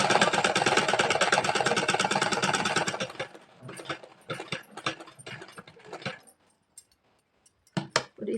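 A sewing machine stitching pant fabric runs in a steady fast whirring rattle for about three seconds, then slows into short stop-start bursts and brief clicks before falling quiet.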